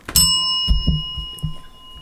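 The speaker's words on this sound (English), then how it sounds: "Hit the bell again." A single struck bell rings out clearly and sustains a bright, steady tone, while several dull thumps sound close by beneath it.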